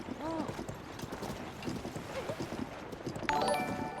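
Horse hooves clip-clop in the video game The Legend of Zelda: Tears of the Kingdom, a steady rhythmic trot under game music, with a brief whinny near the start and a mechanical chime rising near the end.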